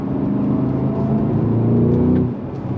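The V8 of a 2025 Cadillac CT5-V Blackwing Precision rumbles loudly and climbs in pitch under throttle, a close, heavy engine roar that builds steadily and then eases off toward the end.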